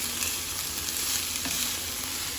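Chiftele vegetable mix with garlic sizzles and fries in vegetable oil over low-medium heat, a steady close crackle with faint stirring scrapes throughout.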